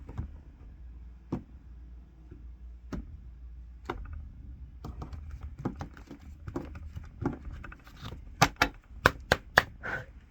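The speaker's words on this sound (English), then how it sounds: "So now we're going to cut the deck." A deck of tarot cards is cut and handled by hand, giving sparse soft taps and clicks that gather into quicker, sharper card snaps and slaps toward the end, close and quiet.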